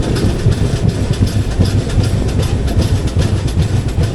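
Udyan Express passenger train running toward Karjat station, a steady loud rumble with rhythmic clickety-clack of wheels over rail joints, heard close from on board with no talk.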